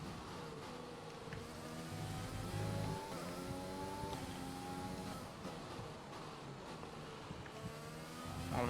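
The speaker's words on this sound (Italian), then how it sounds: "Mi sento il rumore della macchina un po' problematico." Formula 1 race car engine in the F1 2020 video game, running rough and faulty, a steady droning whine with shifting harmonic pitch sustained throughout, no talk over it.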